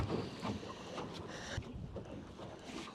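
Wind gusting over a small fishing boat at sea, a broad rushing buffet across the microphone with low rumble and faint water movement, steady and close, no speech.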